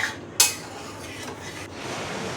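Metal spatula stirring mung dal and banana stem curry in a pan, one sharp clank followed by soft scraping and light clatter.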